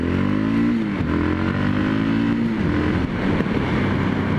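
Engine of a 2013 Yamaha MT03 motorcycle droning loudly and steadily at about 70 during a test ride, with a slight pitch dip and recovery, heavy wind rush and no talking.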